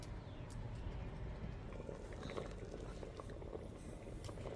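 A pot of dal bubbles vigorously on a stove, a loud, steady boiling burble that carries on throughout with no talking.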